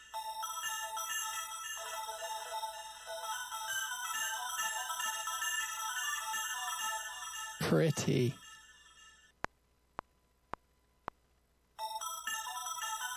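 The Postman Frozen synth preset plays a bright, dense sustained texture that swells into a noisy burst, then drops to a few sharp isolated clicks before the shimmering tone returns; a voice speaks briefly over it.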